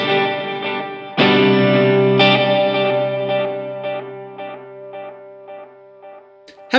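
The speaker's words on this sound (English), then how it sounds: "you can hear the delay is more present because it doesn't kind of go into reverb" Guitar chords through a NUX Atlantic pedal with delay and reverb running in parallel, a loud strum followed by clear rhythmic repeats that fade over a spacious reverb tail, no voices.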